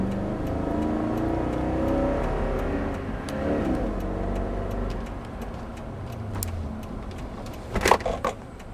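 A new Toyota Tundra pickup truck during a towing test, its engine a steady, moderately loud drone that eases off and fades as the truck brakes to a stop, followed near the end by a brief burst of clicks and rattles.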